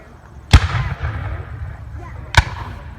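Two loud, sharp booms from a Civil War cannon fired at a reenactment encampment in Hainesville, Illinois, about two seconds apart, each followed by a rumbling outdoor echo.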